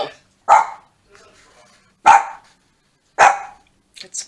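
A dog barks in three loud, close, separate bursts spaced more than a second apart at a FedEx delivery, followed by a couple of short, fainter yips at the end.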